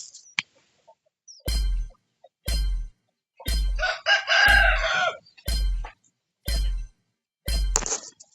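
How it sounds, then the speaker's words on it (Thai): A rooster crows once midway, set among a series of sharp, evenly spaced thumps with silence between them. "จะมีเสียงไก่นิดนึงนะครับ"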